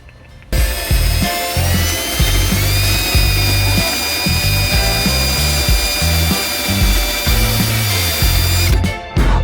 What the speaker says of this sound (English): he's trying to drill those spot welds out